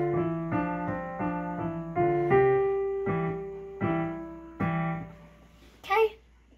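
A child plays a simple piano tune, a series of separate notes struck at a steady pace with ringing tones, a few played in repeated pairs, ending in a brief bright clatter.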